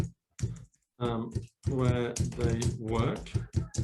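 Rapid clicking of computer keys in short bursts, close and clear, with a person speaking over the typing.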